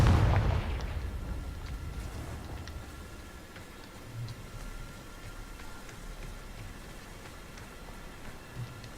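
Confringo spell explosions in Hogwarts Legacy: a loud blast at the start decays into a rumbling tail, followed by scattered smaller crackling impacts and low thuds throughout.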